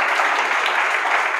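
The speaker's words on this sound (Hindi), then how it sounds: "एक बार स्वामी विवेकानंद जी के लिए ताली बजा दीजिए।" Audience applause for Swami Vivekananda at an English-learning motivational talk, a dense steady clapping that fills the whole short moment without pause.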